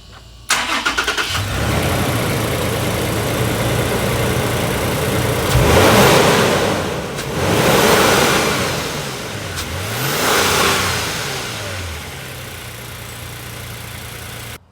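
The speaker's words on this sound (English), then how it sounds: "I'm going to do a quick startup, a cold start, with the camera facing the engine bay, and I'm going to do a few revs" Toyota Tacoma TRD Off-Road with a K&N cold air intake cold-starts close up in the engine bay, settles into a steady idle, then revs up and drops back three times, loud and alone.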